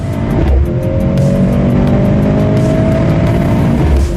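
A Mercedes-AMG C63 S E Performance launches off the line in a drag race, its engine loud and close with a rising strained note and a brief tyre squeal, no voices.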